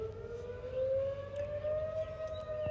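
A civil defense siren wails outdoors at noon, distant and faint, its steady tone slowly rising in pitch over a low background hum.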